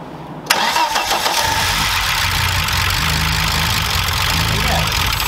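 An engine in a Swedish car project running a Mexxecu engine management system starts at once on the first try and settles into a loud, steady, rumbling idle, with voices talking over it.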